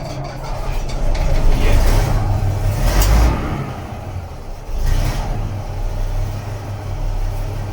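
A diesel locomotive engine cranks and fires up inside the cab, a heavy low rumble building with surges of revving, loud and close throughout.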